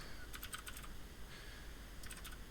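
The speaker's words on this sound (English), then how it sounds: "Struggling a bit with the typing today, I think." Quiet keystrokes tapped on a computer keyboard while someone writes code: a short burst of rapid clicks, a pause, then another quick flurry, all faint over a low background hum.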